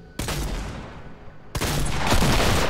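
Two loud double barrel shotgun blasts in Fortnite, each a sharp boom followed by a lingering tail, spaced over a second apart.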